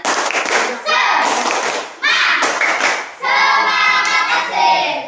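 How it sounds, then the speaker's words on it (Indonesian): A class of elementary school children performs the tepuk semangat spirit clap, a rhythmic group clapping pattern in several bursts, mixed with their loud chanted voices. "Ya. Tepuk semangat."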